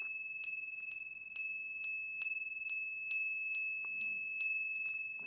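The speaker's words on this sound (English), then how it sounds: "you may also play the small Tingsha bells successively in" Small Tingsha bells struck one after another at an even, unhurried pace, each bright metallic ping ringing on over a sustained shimmering tone in a quiet room.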